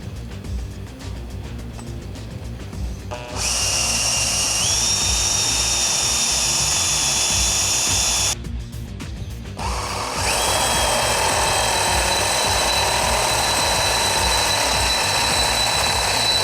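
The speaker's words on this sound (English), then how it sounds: "now I'm going to pilot drill and then step up to a 7/16 drill bit" A power drill bores a pilot hole and then steps up to a 7/16 inch bit during a 4-inch suspension lift install on a Jeep JK Wrangler, running in long, steady, loud whines split by a short pause.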